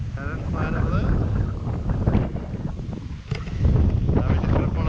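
Strong wind of roughly fifty miles an hour roars across a hillside walking path near Betws-y-Coed in Wales. It makes loud, steady buffeting against the microphone, with a voice talking underneath.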